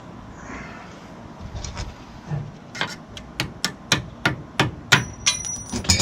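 Sharp metallic hammer strikes on brake parts of a Chevy Astro ring out, slow and scattered at first, then settling into a steady rhythm of loud, close blows.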